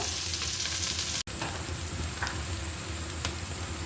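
Onion frying in a pan, a steady close hiss and crackle of hot oil that cuts out briefly once and then carries on, with no voices.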